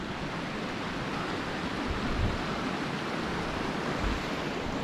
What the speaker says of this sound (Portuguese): um monte de cachoeira no caminho